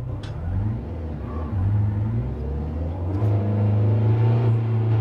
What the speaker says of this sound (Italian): Questo è un motore Ferrari.